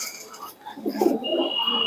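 A Kaladana-eyed pigeon coos softly close by, a low murmuring call swelling mid-clip, with a faint high tone and light background noise around it.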